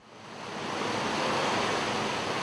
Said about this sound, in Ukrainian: Близость моря тут ощущается всегда. И в ровном гуле прибоя